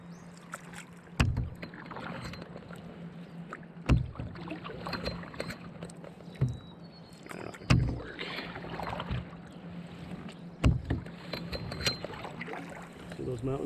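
Canoe being paddled and turned on a foggy mountain lake, with soft water swishes and knocks from paddle strokes repeating every couple of seconds, faint and close against wind, while someone talks quietly.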